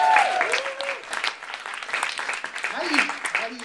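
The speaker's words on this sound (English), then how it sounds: "give him another round of applause" Steady applause from a crowd, dense clapping throughout, with some cheering and voices mixed in.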